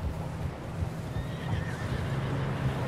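A horse in Red Dead Redemption 2 whinnies sharply while galloping, its rhythmic clip-clop hoofbeats running underneath, close and steady, with a soft outdoor breeze in the game's western landscape.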